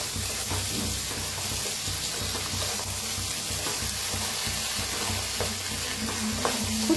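Green masala paste frying and being stirred in a pan for an egg curry: a steady, close sizzle with soft scraping stir strokes throughout, no voices.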